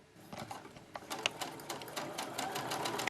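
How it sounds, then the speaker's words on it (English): A sewing machine runs in quick rhythmic bursts, stitching a quarter-inch seam along a folded fabric strip for a bag handle, close and steady with brief pauses. "fold that right side together and sew that with a 1/4 inch seam"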